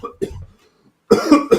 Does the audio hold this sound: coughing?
yes